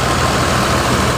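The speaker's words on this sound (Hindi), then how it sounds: "हाले भी ट्रैक्टर चलता करे, मैं ट्रैक्टर को दूर आ गया क्योंकि ट्रैक्टर का इतना ज़्यादा शोर है।" A tractor drives a wheat thresher in a village at night, its loud engine droning steadily at close range with no break and no talk.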